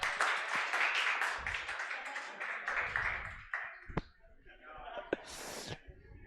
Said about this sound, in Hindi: चलो तो इस बात पे ताली तो।